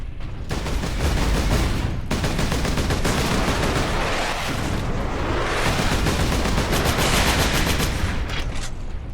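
Space Marine gunfire: loud, sustained rapid volleys of machine-gun and heavy weapon fire with booms, nearly unbroken, with brief lulls between rattling bursts.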